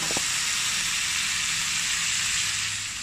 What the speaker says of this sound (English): So here I am adding in a homemade prawn stock which has been frozen and now being defrosted.